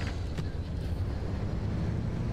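Car engine in the survival video game Pacific Drive runs with a steady low rumbling drone, close and constant, no voices over it.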